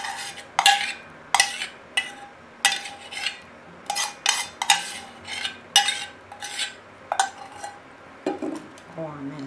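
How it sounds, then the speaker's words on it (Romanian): Cake cream mixture with gelatin being stirred in a bowl, a steady series of sharp utensil clinks and scrapes at a regular rhythm, close and clear, with no one talking. "O amestec aici."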